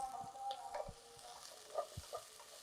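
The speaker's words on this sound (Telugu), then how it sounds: "ఫ్రై చేద్దాం ఇదంతా." Ginger, garlic and onion frying in oil for coriander pulao, with soft sizzling and a few distinct utensil scrapes and clinks from stirring, fairly quiet and close, no talking.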